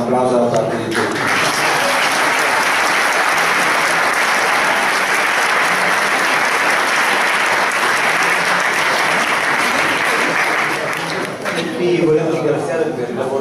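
An audience at a Bologna tour event breaks into loud, sustained applause, a dense wall of clapping that lasts nearly the whole stretch before tapering off near the end.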